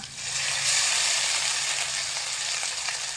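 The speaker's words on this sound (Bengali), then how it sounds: "যতটা তেল আছে তার মধ্যে দিয়ে দেব একটা মিডিয়াম সাইজের রসুন বেটে রেখেছিলাম, সেটা দিয়ে দিচ্ছি" Garlic paste dropped into hot oil for a spicy fish curry, a steady, bright sizzle that holds loud and even from start to finish with no voices.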